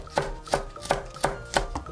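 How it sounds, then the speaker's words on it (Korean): Knife chopping two cheongyang chili peppers on a board for ojingeo-samgyeopsal bulgogi: six evenly spaced, crisp chops about a third of a second apart, close and clear, no voices. "청양고추 2개는 쫑쫑 잘라주시고"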